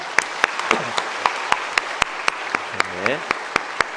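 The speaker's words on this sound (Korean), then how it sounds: "격려의 박수 한번 하겠습니다." Church congregation clapping during a Sunday morning worship service, a broad steady applause under regular loud, close claps, while a voice speaks briefly over it.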